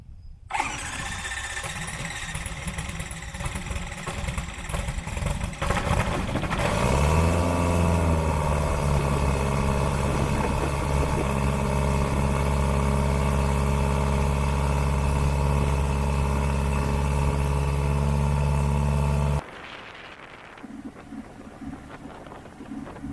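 A turbocharged EDGE Performance STi Rotax aircraft engine in a RANS S-7S cranks and fires, then roars steadily at high power with a loud, constant drone for about fifteen seconds before dropping abruptly to a quieter idle.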